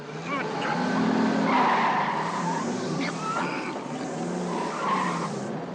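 A car races past another car, with tire squeal and engine roar swelling and fading under excited talk.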